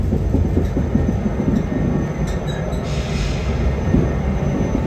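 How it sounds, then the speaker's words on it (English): A heavy diesel locomotive train rumbles steadily close by, deep engine drone with rolling wheel noise and a brief metallic squeal partway through. "the train is moved ahead"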